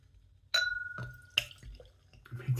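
Gwatkin's Kingston Black cider pours into a glass with a bright clink, then splashy liquid gurgles and drips, quiet and close.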